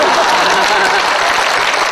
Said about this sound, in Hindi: फिर तालियां चाहूंगा